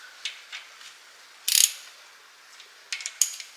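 Ratchet torquing rod bearing bolts on a BMW M6 E63 S85 V10 engine, a few faint clicking pawl ticks, then a short louder ratcheting burst and more scattered clicks in a quiet space.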